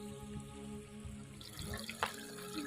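Water runs steadily from a tap with a low background hum, splashing louder for a moment near the end.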